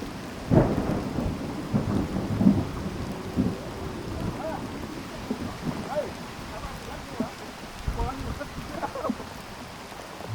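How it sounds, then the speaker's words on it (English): Heavy rain hisses steadily in a tiger park, with low rumbles and scattered heavier knocks and drips throughout, and faint voices now and then under the downpour. "just hoping that the rain stops."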